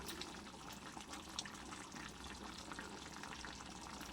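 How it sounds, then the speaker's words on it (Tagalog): Pork humba with vinegar simmering in a pot, giving a steady, dense bubbling and sizzling hiss that runs evenly throughout without pause, close by and moderately loud. "Hayaan lang po siyang kumulo."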